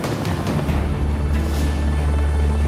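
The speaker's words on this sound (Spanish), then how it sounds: "Christine Brown despega en su helicóptero hacia una metrópolis moderna." A helicopter taking off over Manhattan, its steady, loud rotor thump and engine drone filling the air without pause, with no voices.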